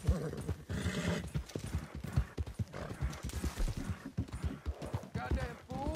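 Horse hooves in Red Dead Redemption 2 clatter as a fast, rhythmic gallop with occasional neighs, mixed with game sounds and someone talking over them.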